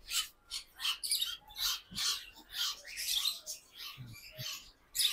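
Young myna birds give a run of rapid, rhythmic scratchy squawks and chirps close by, repeated in pulses with no talking.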